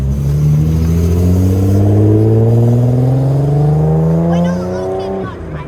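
A Nissan Skyline GT-R R33 revs loudly and close as it pulls away from a car meet, its engine note climbing steadily for several seconds before easing off, with people talking nearby.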